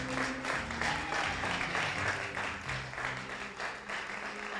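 Church congregation applauding during a worship service, a continuous wash of clapping from many hands with voices mixed in beneath, fairly distant and even in level throughout.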